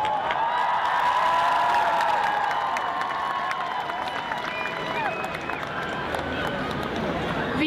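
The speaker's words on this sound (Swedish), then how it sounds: "en applåd till dem" Outdoor crowd at a climate strike rally on Mynttorget in Stockholm, 2019, applauding and cheering in a dense, sustained wash of clapping and voices that holds steady throughout before easing slightly near the end.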